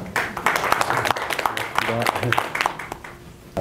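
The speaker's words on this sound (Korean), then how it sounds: "큰 박수 부탁드리겠습니다." Applause from the audience at a Gangwon governor's press meeting in LA, scattered claps with a brief voice partway through, moderately close, over a few seconds.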